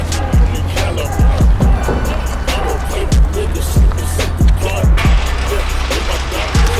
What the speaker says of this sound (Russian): Зато заводится и работает, глянь.